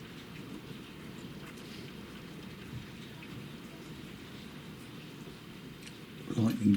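Hail and thunderstorm with rain over a garden lawn in Cambridge, UK: steady dense rain hiss fills the whole stretch, with a low rumble swelling near the end.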